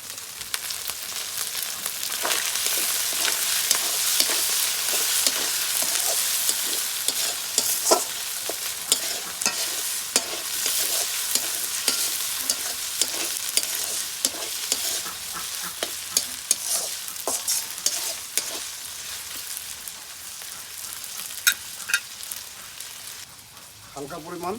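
A country rooster curry with freshly chopped tomatoes sizzles loudly and steadily in a pan, with frequent sharp clinks and scrapes of a spoon stirring through the dense, continuous frying hiss.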